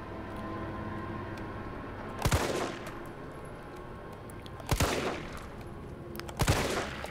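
Three separate gunshots from a firearm in Resident Evil 3 Remake, each a sharp loud crack with a short tail, spaced a couple of seconds apart over a low ambient background.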